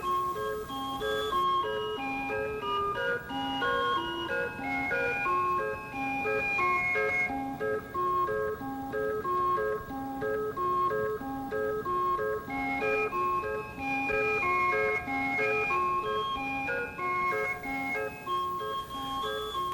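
Upbeat calliope music plays a tune aboard the excursion steamer Eastland, steady, loud and continuous from start to finish with bright whistle-like melody over a pulsing accompaniment, no voices.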